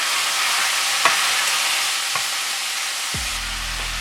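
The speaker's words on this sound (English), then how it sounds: "So I'm gonna just pan fry these for about 3 minutes before adding the prawns." Seafood pan-frying for a seafood marinara with linguine gives a steady broadband sizzle with a few faint utensil clicks. A low hum comes in near the end.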